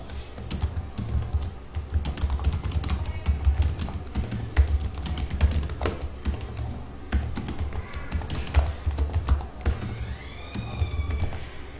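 Rapid typing on a computer keyboard while writing text in Microsoft Word, a close and steady clatter of keystrokes running throughout with no speech.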